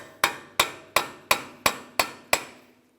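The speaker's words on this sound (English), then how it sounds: "We'll use a hammer and punch right in the center of the axle to break this free." A hammer drives a punch into the center of a front axle on a 2003-2007 Honda Accord, seven sharp metallic strikes in an even rhythm, close and loud with ringing decays.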